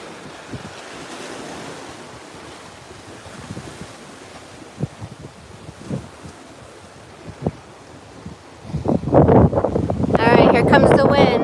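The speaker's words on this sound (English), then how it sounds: "All right, here comes the wind." Wind blows outdoors on a morning with dragonflies about, a soft rushing background with scattered thumps that swells into strong, loud buffeting gusts over the last few seconds.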